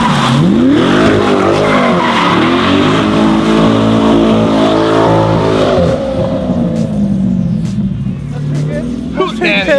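A Corvette C8 with a titanium exhaust roars loudly as it accelerates and revs in sweeping pulls, with engine pitch climbing and dropping. The sound eases slightly toward the end, and tire noise may be mixed in.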